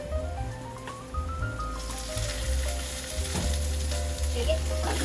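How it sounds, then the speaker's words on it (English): Garlic fries in oil in a skillet with a loud, bubbly sizzle that swells partway through, heard close up over a steady low hum and occasional tonal background sounds. "A little more oil in your skillet."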